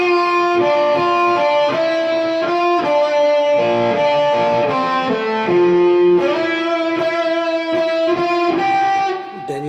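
Electric guitar playing a scale passage from a song's solo, a sustained, slightly overdriven run of connected single notes, loud and close with no talking.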